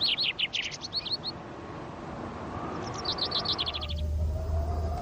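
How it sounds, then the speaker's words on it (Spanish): Bright, rapid chirps of a lone bird in the Sierra de Guara mountains, Spain, in two short bursts separated by quiet, over a low rumbling background. "el canto de algún pájaro solitario"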